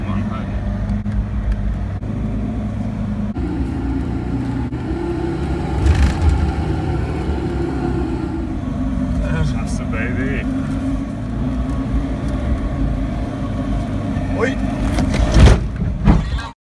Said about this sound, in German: Wir sind jetzt gerade ein bisschen zu schnell über eine Düne bzw. Weichsandpassage gefahren.